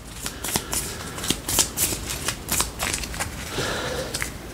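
Cards from the Slay the Spire board game are shuffled and handled close up, with a run of crisp riffling flicks and paper slaps that repeat irregularly, alone without talk.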